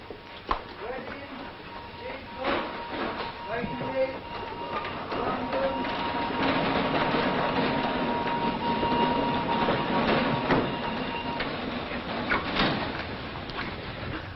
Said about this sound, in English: Porter, is that the Birmingham train? It's just coming in now, sir.